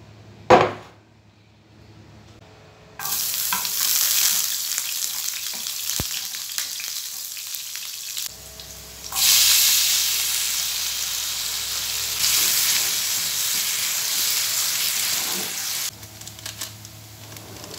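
Potatoes, carrots, onion and two eggs fry in a pan for breakfast, a loud hissing sizzle that flares up in bursts with quieter gaps and occasional clinks of utensils, no talk.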